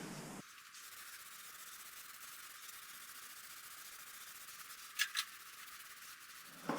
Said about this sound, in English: I'm just using a matte black paint here, just aerosol